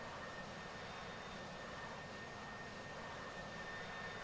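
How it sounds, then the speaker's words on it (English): An AV-8B Harrier jet taking off on a rolling run from the amphibious ship Tarawa in a flight game sounds as a faint, distant, even jet roar that holds steady throughout. "the third Harrier, again, because it has a much longer run-up, it should start to fold its gear relatively quickly and start to climb"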